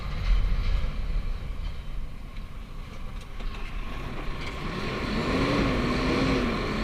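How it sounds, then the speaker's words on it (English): A truck engine rumbles steadily as it pulls a shipping container onto chassis rollers, a continuous low drone with a rising whine near the end, heard from close by. "I'd like to show you guys what it looks like also when I pull this container on."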